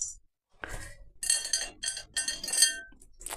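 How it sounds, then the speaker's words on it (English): Christmas bracelet clanking with a light metallic clink during bread-and-butter prep, several short jangling bursts close up, with no talk. "Excuse the clanking of my bracelet."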